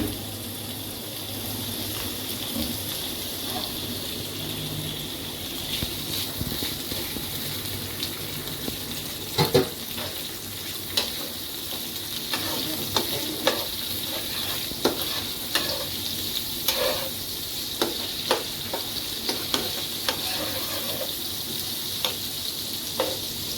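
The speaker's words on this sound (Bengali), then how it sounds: "যেহেতু আমার পেঁয়াজটা ভাজা ভাজা হয়ে গেছে" Chopped onions frying and being stirred with whole and ground garam masala and bay leaf in a pan, a steady sizzle under repeated scraping strokes of a spoon, close and continuous with no talking.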